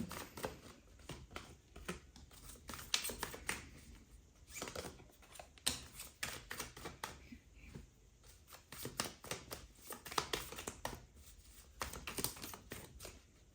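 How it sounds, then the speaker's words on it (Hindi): Tarot cards are shuffled by hand in quick, papery riffles and soft slaps, coming in irregular bursts, close and quiet, with no speech over them. "चलिए, तो हमने शफलिंग स्टार्ट कर दी है।"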